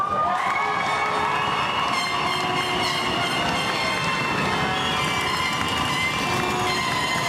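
A large crowd cheers and roars continuously at an outdoor graduation ceremony on a field, a dense sustained wash of noise with scattered horn-like tones, loud and unbroken throughout.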